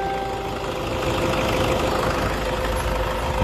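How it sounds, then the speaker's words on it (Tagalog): A Toyota Corolla Altis engine idles steadily after break-in work, a smooth continuous mid-pitched hum with a faint whine, close and even in level throughout, with no talking. "Ayan, tahimik pa sir yung makina nyo."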